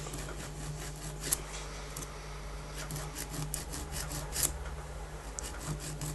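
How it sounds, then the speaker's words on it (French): A metal file rasps steadily across a metal part being shaped and rounded, repeated scraping strokes in an even rhythm, close and moderately quiet. "J'incline ma lime"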